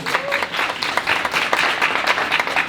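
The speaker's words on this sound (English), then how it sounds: "Just give yourselves a round of applause." A crowd applauds with dense, continuous clapping that holds steady throughout the short stretch.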